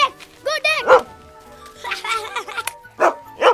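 A dog barks and yips in short bursts, with whimpering tones mixed in and a few gaps between them, close and fairly loud.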